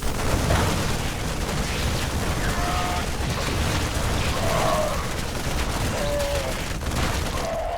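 Dense battle noise from the real-time strategy video game StarCraft as a squad of Marines fights Zerglings: rapid continuous gunfire chatter with short squeals and screeches rising over the steady clatter.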